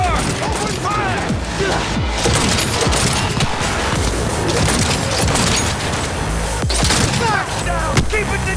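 Gunfire in the Cyberpunk 2077 video game, a loud, dense barrage of shots and booms that rattles on steadily for several seconds, with sharp cracks and impacts overlapping one another.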